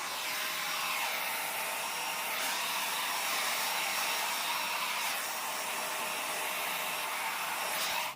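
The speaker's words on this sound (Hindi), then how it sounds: "ठंड में बाल जल्दी सूखते नहीं हैं, इसलिए मैं ड्रायर कर रही हूँ" A hair dryer blowing on hair in cold weather, a steady loud rushing whoosh that runs without a break and with no voices.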